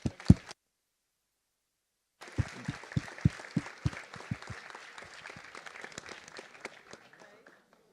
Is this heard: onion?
no